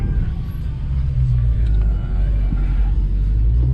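A 1000 HP Dodge Hellcat accelerating at full throttle gives a loud, sustained deep rumble that swells and holds steady throughout, close and heavy.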